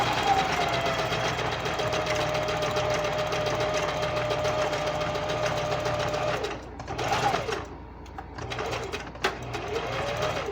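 A sewing machine stitches a seam in a steady, fast, even whir that runs for several seconds, then breaks into short stop-and-start bursts, with a faint voice nearby.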